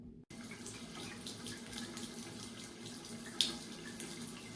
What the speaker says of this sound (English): wash it off with lukewarm water